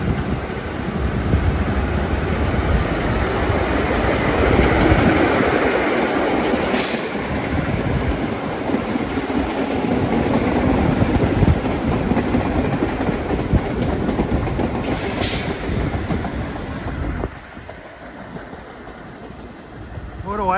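A vintage NYC subway train of R1 and R9 cars rumbles and clatters steadily past at close range for a long stretch, with wheels screeching at times, before the noise drops away abruptly.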